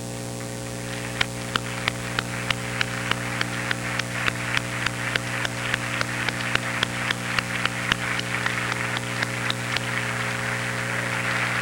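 Audience clapping at a state beauty pageant for its local volunteers, a sustained round of applause from a crowd heard over a steady electrical hum.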